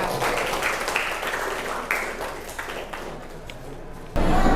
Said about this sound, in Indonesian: Tepuk tangan untuk semua.